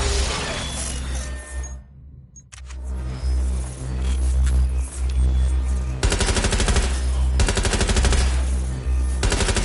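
Shotgun fire and rapid gunfire in the video game Watch Dogs Legion, loud and dense with repeated blasts, a brief lull, then a sustained barrage of fast shots amid game mayhem.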